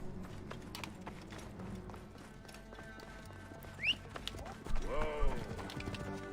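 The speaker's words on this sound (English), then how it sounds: "There's the horse." Horse hooves in the video game Assassin's Creed Origins, a faint rapid clip-clop running beneath game music and sound effects, growing somewhat louder toward the end, with no talk over it.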